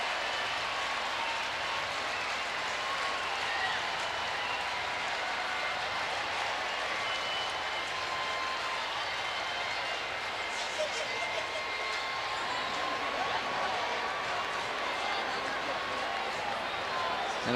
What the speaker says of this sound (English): And there is a big cheer as whoever it is being escorted